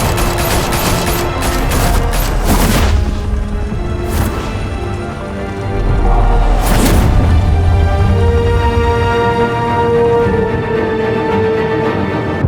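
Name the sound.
gunfire, Batman: The Telltale Series video game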